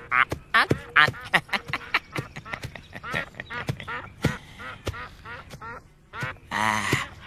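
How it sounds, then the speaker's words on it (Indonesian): Whistling ducks (meliwis) quack in a rapid, uneven series of sharp calls, fairly close, over a soft background hiss. "Nini Mesin, saya bawakan burung meliwis sama jamur barat"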